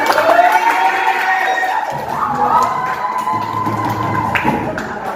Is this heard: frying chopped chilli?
no